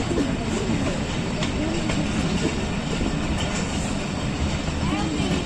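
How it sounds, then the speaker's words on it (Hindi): The Hazara Express pulls out of Usman Khattar station with a steady, dense rumble of moving carriages and wheels, close and continuous, with faint voices mixed into the noise. "उस्मान खट्टर से 12 डाउन हज़ारा एक्सप्रेस रवाना।"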